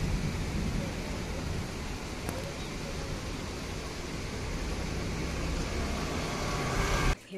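Rain and wind outside during a Bangalore downpour, heard as a soft, constant broadband wash at low level before cutting off abruptly at the end.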